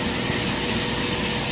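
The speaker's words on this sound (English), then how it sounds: "Even spraying from quite a distance here, about 2 inches maybe away," Harder & Steenbeck Infinity CR+ airbrush spraying thinned paint from about two inches away, a close, steady hiss of air that holds even and loud for the whole short stretch.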